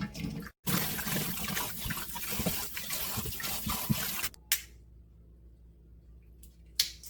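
Tap water runs steadily as ginger is rinsed, a loud close rushing splash for about four seconds that then cuts off, leaving near silence and a faint click.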